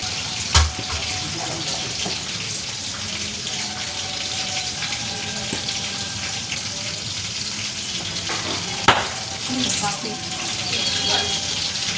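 Potatoes frying in a wok in a home kitchen give off a steady, close sizzling hiss with scattered sharp crackles and pops throughout.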